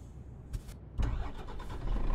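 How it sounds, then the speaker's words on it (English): A truck engine in Euro Truck Simulator 2 cranks and catches about a second in, then settles into a low, steady rumble, after a quieter stretch with a couple of faint clicks. "Start the engine up."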